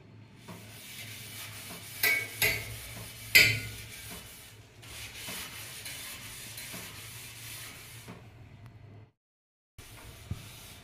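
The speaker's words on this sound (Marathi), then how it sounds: "चला आता हे सगळं ग्रिल घासून घेतले मी" A dirty, rusty grill cleaned with bathroom cleaner gets scrubbed with uneven rubbing and scraping strokes, punctuated by a few sharp knocks, then a brief silence and a last scrape.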